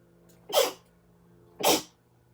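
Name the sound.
sneeze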